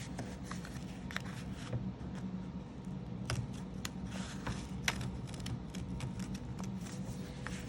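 Repeated crisp snips of scissors cutting paper, close and steady over faint rustling, with no talking.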